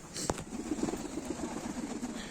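Pigeons cooing softly in a rhythmic, low, repeated burble, with a brief clatter near the start, quiet and fairly close.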